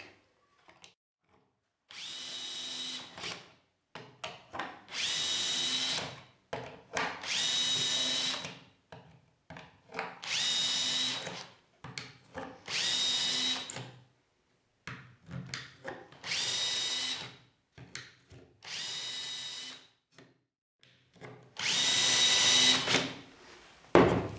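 Power drill boring holes with a 5 mm bit through a drill guide while a reinforcing shelf is installed with brackets, in a series of about eight loud whirring bursts separated by short pauses and handling noise.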